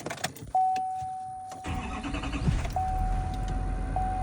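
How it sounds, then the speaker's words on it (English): A key clicks, a chime rings, then a Chevy L5P diesel truck engine cranks and catches, settling into a steady rumbling idle while a warning tone repeats. "I'm gonna start the truck now."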